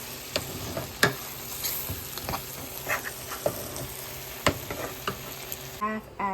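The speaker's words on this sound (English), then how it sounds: "Now, I'm going to start mixing all of this in." Sausage mixture is stirred in a frying pot, with a spoon scraping and knocking the pan in irregular strokes over a steady sizzle; a brief tonal beep sounds near the end.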